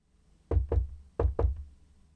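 Four close, solid knocks on a door, struck as two quick pairs with a short pause between them, clean and alone as an audiobook sound effect.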